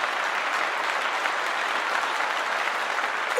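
A crowd gives steady, dense applause, a continuous even wash of many hands clapping that holds at the same loudness throughout.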